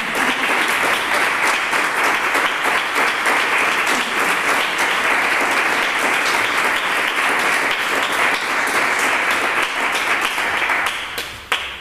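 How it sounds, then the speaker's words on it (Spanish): A concert audience at a Sephardic music performance breaks into loud, dense, sustained applause that stays even for over ten seconds before stopping abruptly. "por favor un fuerte aplauso"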